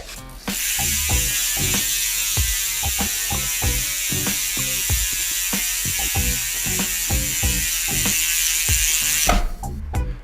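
Rapid mechanical ratchet clicking from an Industry 9 rear hub on a Cotic Rocket mountain bike, a dense buzzing stream of clicks heard up close, steady for several seconds before stopping.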